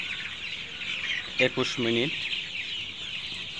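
Young brown cock chickens, about 29 days old, on a poultry farm give a short burst of clucking over a steady background hiss, while a person speaks briefly nearby.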